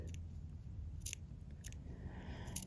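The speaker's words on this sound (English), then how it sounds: "I'm just going to trim up in just a couple of places here." Sharp scissors snip Ultrasuede in a few quiet, separate cuts over a soft background hush.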